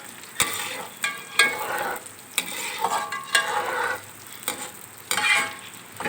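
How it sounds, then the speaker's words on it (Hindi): Okra (bhindi) fries in a pan with oil, a steady sizzle broken by repeated scraping stirs at a slow, uneven rhythm, close and moderately loud with no voices. "तो अभी मैं ये कच्चा पक्का जो है ना फ्राई कर लेती हूँ।"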